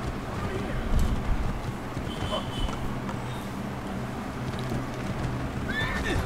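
A horse in the video game Assassin's Creed 2 whinnies briefly amid dense game ambience, with faint hoof clip-clops and a brief high whinny near the end, all under a steady wash of background noise.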